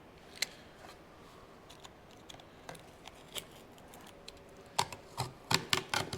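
A sharp blade slicing through an air filter for a vintage Honda, a series of faint scattered snips and clicks that grow quicker and louder toward the end.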